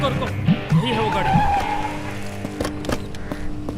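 A car skids with squealing tires, a rising screech that peaks and fades over roaring engine noise, followed by sharp impact-like knocks, while voices speak alongside.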